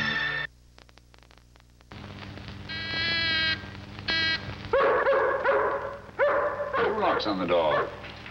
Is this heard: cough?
no